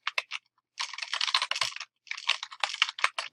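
Fast typing on a computer keyboard, close and clear. A few quick keystrokes come first, then a short pause, then two dense bursts of rapid clicking with a brief gap between them.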